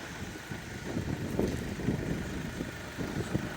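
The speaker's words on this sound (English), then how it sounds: "And hear the engine running, that's nice and quiet." A 2012 Mercedes B180 idles quietly, a soft steady low engine hum with faint rumbling pulses and no other activity, even and subdued.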